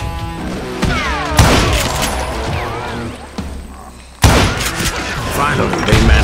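Heavy gunfire from the Western shooter Call of Juarez Gunslinger: loud booming shots and bursts, with a sharp blast near 1.4 s and another near 4.2 s over a dense, continuous game-audio mix.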